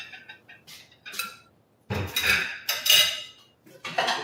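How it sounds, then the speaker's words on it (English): A spoon stirs a potato dish in a pot, producing a series of close, fairly loud scraping and clinking strokes against the metal after a few lighter taps at the start. "So we can go ahead and stir this now."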